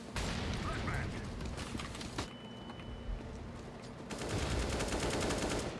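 Counter-Strike gunfire on the Cache map, bursts of rapid loud shots in clusters, a short lull in the middle, then another sustained volley near the end.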